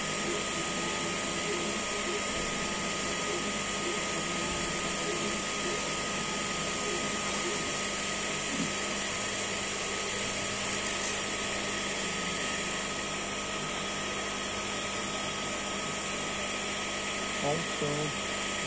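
An Endurance 15 watt Duos laser cuts plywood and MDF at 99% power over three passes, a steady close whine of fans and extraction droning on without a break under low background noise.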